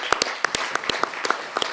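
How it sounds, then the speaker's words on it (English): Scattered applause at a Flagstaff city council work session: sharp individual claps ring out over a steady patter from a modest room of hands, with no talking. "I got to stop and offer a big round of applause here."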